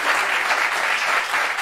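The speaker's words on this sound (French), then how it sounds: "Est-ce qu'on peut applaudir déjà ce miraculeux?" An audience applauds steadily for a healing testimony about a wound that lasted two years: dense, continuous clapping fills the space at moderate loudness without a break.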